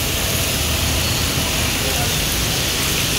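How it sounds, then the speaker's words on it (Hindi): Heavy rain pours down in North Karachi, a dense, steady hiss that holds evenly throughout without any pause or letup. "यहाँ पर तेज़ रफ्तार बारिश का सिलसिला शुरू हो चुका है।"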